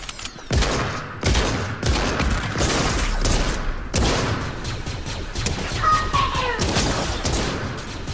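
Shotgun blasts in a video game, a series of loud, separate booming shots spaced roughly every second, close and punchy, with mechanical clacks between them and no talk.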